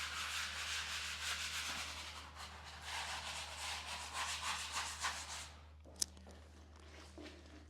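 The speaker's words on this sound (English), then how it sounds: "followed by a second wipe with a score pad, followed by your third wipe with a sponge" Epoxy grout being scrubbed with a scour pad, a steady close rasping rub in quick back-and-forth strokes that stops near the end, followed by a single sharp knock.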